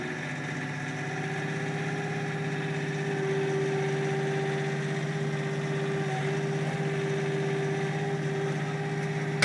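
A KIOTI NX6010 HST cab tractor's engine runs at a raised, steady speed of about 2,000 RPM, a constant loud drone with a firm hum that swells slightly and then holds, with no voices.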